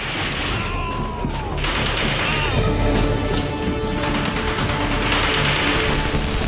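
Battle gunfire and grenade blasts fill a close, dense soundscape, with continuous crackling shots, sharp cracks and heavy booms overlapping at steady loudness throughout.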